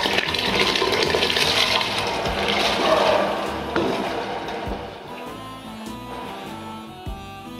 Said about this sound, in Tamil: அப்படியே கொதிக்குது தண்ணி.